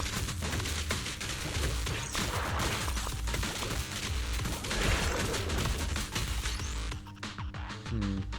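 Scatter shot weapon firing in Zenless Zone Zero, a steady barrage of rapid, loud blasts and impacts layered with game music and effects, tapering off near the end.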